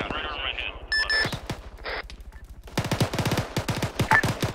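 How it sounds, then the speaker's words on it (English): Gunfire from the Arma 3 military video game, with scattered single shots early on and then a dense run of rapid automatic bursts, heard under players' radio chatter and game beeps. "We are shooting at that."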